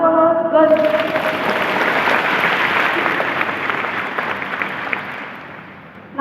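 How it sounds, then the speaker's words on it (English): Students at a school assembly applaud a classmate's correct quiz answer; loud, full clapping rises after a brief voice at the start and gradually fades over several seconds. "Clap for her."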